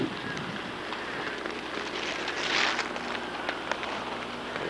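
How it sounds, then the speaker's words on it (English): Steady rain pours down during a hurricane flood, a dense hiss of drops on surfaces and water that holds constant with faint wind noise underneath, with no voices over it. "You can probably hear the rain."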